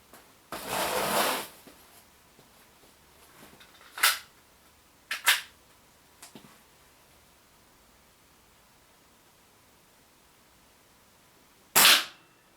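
A few sharp, snappy shots from an Action Army AAP-01 green gas airsoft pistol firing 0.3 gram BBs, spaced seconds apart, each a crisp crack with a brief hiss, separated by quiet stretches.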